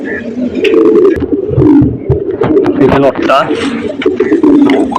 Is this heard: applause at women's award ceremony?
no